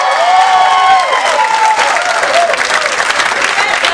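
Audience at a city council meeting applauds opposition councillors during a dispute over a pay increase for public servants; loud, steady, dense clapping fills the room and continues throughout, with faint voices and cheering mixed in.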